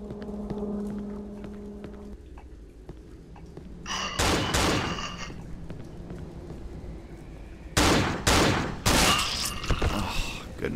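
In the horror video game Cry of Fear, enemy gunfire bursts out in two clusters of loud sharp shots over a low background, with a voice speaking at times.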